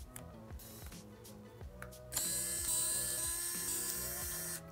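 Small screws on a laptop's underside being backed out with a whirring electric screwdriver, a steady motor hum with stepped pitch changes and brief stops, then a louder, brighter whine from about two seconds on, close and without talk.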